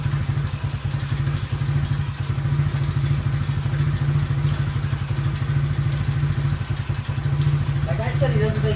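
A quad ATV's small engine runs at a steady idle up close, with a rapid, even throbbing beat and loose rattling clatter from the vibrating motor that continues without a break.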